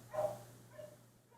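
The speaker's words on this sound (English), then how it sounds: "Old dog still wanting to bark there in the background" An old dog barks in the background, one faint distant bark followed by a softer second one, with no talk over it.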